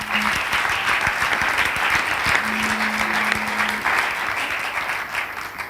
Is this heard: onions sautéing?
no